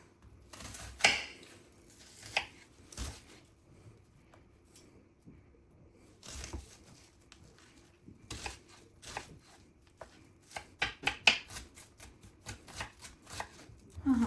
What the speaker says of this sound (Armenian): Ինքս այսպես մանրացնեմ ինչքան հնարավոր է մանր